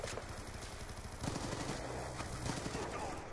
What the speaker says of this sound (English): Oh, wow, he just kept shooting.